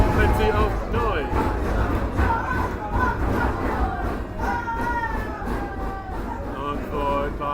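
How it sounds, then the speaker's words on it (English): Football fans at a Stocksbridge Park Steels versus FC United non-league match make a steady roar of noise in the stands, a dense crowd din that runs throughout with commentary speech over it. "Battle of the crowd now as both of them plenty of noise."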